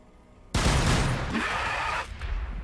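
Gunfire in the Warhammer 40K: Battlesector game breaks out suddenly as a dense, loud, sustained volley of overlapping shots, lasting about a second and a half before easing into a lower rumble.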